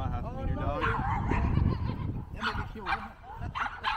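A small Chihuahua and wiener dog mix yips and whines in short bursts, fairly close, interleaved with a voice talking.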